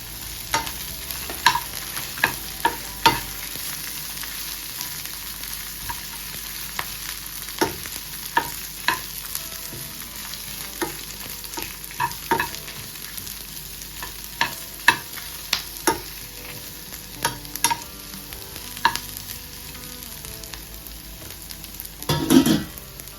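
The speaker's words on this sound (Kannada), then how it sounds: "ಇದೆರಡು ಹಾಕಿ ಚೆನ್ನಾಗಿ ಹುರ್ಕೊಳ್ಳೋಣ." Green and red chillies frying in oil in a pan for a village-style chicken sambar, with steady soft sizzling and repeated scraping clinks of a spoon stirring against the pan, close and without talk.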